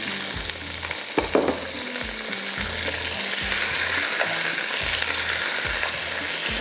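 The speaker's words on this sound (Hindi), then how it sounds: "अब इसके अंदर जाएगा ये गोश्त के साथ इसको भूनेंगे" Mutton frying with browned onions in a pot, a loud steady sizzle with rhythmic spoon scrapes as the meat is stirred, close up, no talk.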